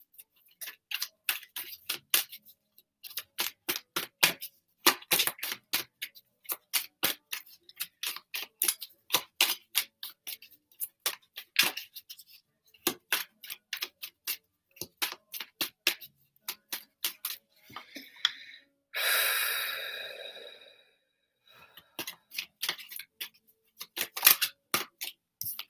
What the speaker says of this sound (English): I'm going to pull a couple of cards for you